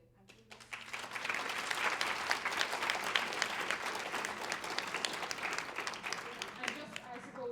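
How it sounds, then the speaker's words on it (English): Steady applause from an audience at a nursing and midwifery student debate, a dense patter of many hands clapping that swells after a quiet start and continues evenly throughout. "giving me 2 rounds of applause"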